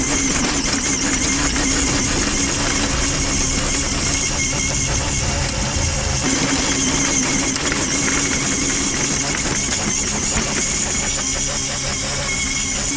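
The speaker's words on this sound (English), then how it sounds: "Once it's dug in, you can see how it works." Lawnmaster 48V cordless tiller with a 180 RPM motor digging into garden soil, giving a steady loud whirring drone with gritty scraping that runs continuously throughout.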